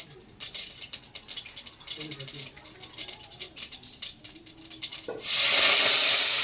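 Curry leaves hit hot oil in a Chettinad-style cooking pan, giving a crackling, spitting sizzle of irregular pops that swells into a loud, steady hiss near the end.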